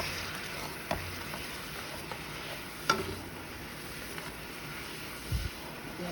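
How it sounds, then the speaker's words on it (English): Ice is stirred around a hot pan, giving a continuous sizzling hiss with a few soft scraping knocks from the stirring, heard close up with no voices. "I'm gonna stir around the ice."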